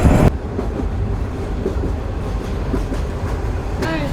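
A local train on the Lalmonirhat to Burimari line rumbles along with a steady clatter of wheels on rails, close and loud, ending in a brief squeal of metal.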